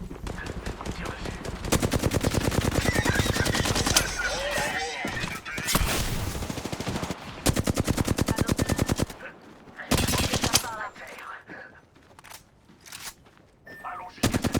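Rapid automatic gunfire from a firefight against an enemy squad in the battle royale game Apex Legends, loud sustained bursts broken by short pauses, with game music and effects around them.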